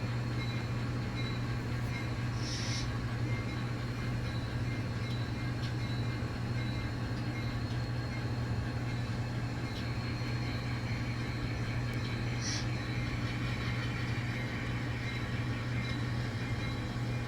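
N scale model train of CSX equipment pulling a string of coupled empty cars in a yard, a steady low rumbling hum with faint high clicks, continuous and fairly quiet with no talking.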